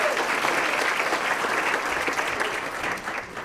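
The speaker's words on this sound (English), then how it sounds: "It's okay to clap" Courtroom audience at a veterans' court graduation breaking into steady applause, many hands clapping continuously at moderate volume, tapering slightly at the end.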